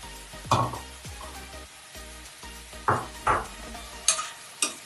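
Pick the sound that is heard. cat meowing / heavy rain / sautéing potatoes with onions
sautéing potatoes with onions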